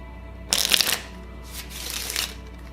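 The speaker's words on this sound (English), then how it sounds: "the riffle shuffle" Playing cards riffle-shuffled during cardistry practice: two close, crisp bursts of fluttering card snaps, a sharp one followed by a longer, softer one.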